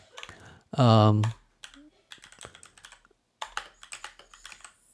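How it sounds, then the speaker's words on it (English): Keys clatter on a computer keyboard in quick bursts of typing, close and crisp, with a short vocal sound and pauses between runs. "let's go ahead and just type something here"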